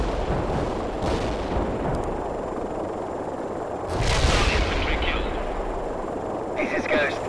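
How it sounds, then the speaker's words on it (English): Heavy artillery barrage in the war strategy game World in Conflict during an invasion mission: rumbling shell impacts and booming blasts, loudest around the middle, over a dense bed of battlefield noise with voices talking. "We can start a heavy barrage."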